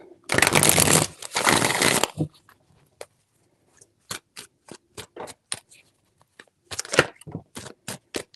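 Tarot cards being shuffled: two long riffling bursts up close, then a series of sharp, separate taps and snaps as the deck is handled and cut, with no talk.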